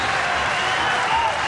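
A boxing crowd at the Willie Casey versus Andreas Evensen fight roars and applauds loudly and continuously, a dense wash of cheering that fills the whole moment.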